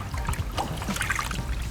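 A car-wash towel swished and agitated against a grit guard in a bucket of rinseless wash water, giving soft close trickling and sloshing with small splashes, continuous and fairly quiet with no talk.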